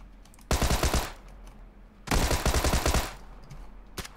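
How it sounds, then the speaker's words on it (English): A Tommy gun fires in the PUBG battle royale game: two loud rapid bursts roughly a second long, separated by a pause, then a single sharp shot at the end. "Yeah, dude, Tommy gun, man. It actually came into its own right here."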